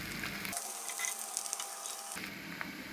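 Chicken frying in a generous amount of oil in a pan, a steady close sizzle with light crackles, and a brief lower-pitched muffled stretch in the middle.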